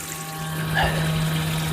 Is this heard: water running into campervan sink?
yes